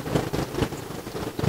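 Heavy rain pours down during a violent thunderstorm over a hillside bridge construction camp, a dense steady wash of noise with a few stronger gusting surges and no clear thunder crack.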